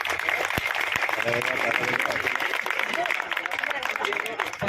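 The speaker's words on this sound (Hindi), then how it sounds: "जोरदार तालियां हो जाए।" Audience applause after a children's play performance at a school competition, a dense steady patter of many hands clapping at close range that carries through the whole stretch, with a few sharper individual claps standing out.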